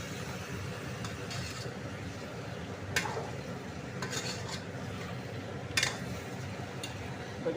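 Chicken gravy curry being stirred in a pan, a steady soft cooking rustle broken by a few sharp clicks and scrapes of the spoon against the pan.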